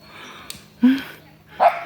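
A small dog out walking with people in a forest gives two loud, separate barks about a second apart, close to the listener, after a faint click, with no one talking over it.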